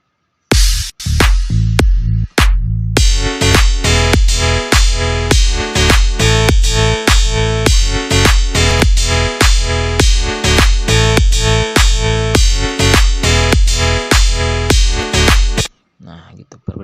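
Electronic dance track in a bright NCS-style mix, its kick drum sidechained so the full sound pumps and ducks on every beat in a steady, loud rhythm before cutting off near the end.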